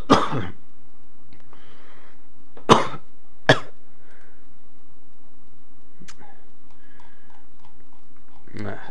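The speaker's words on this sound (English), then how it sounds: "Had to cough." A single harsh cough opens the clip, followed by two more short coughs or throat-clearing bursts a few seconds later. A low hum runs in the background and there is no talk.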